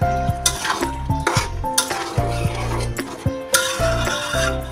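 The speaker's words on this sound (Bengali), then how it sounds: "ডালটা একটু মশলার সাথে কষিয়ে নিই।" Chickpeas being sautéed with spices in a pan for chole, a soft sizzle under loud repeated metal spoon scrapes and clinks against the pot, close and rhythmic, no talking.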